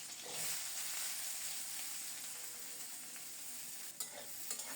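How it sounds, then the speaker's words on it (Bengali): Garlic and onion frying in oil, a dense continuous sizzle held steady throughout, with a couple of faint stirring knocks near the end; no talking. "ওই তেলেই রসুন আর পেঁয়াজ ভেজে নেব।"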